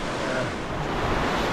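River water spilling over limestone falls in the Yorkshire Dales: a dense, steady rushing roar that fills the whole stretch without a break.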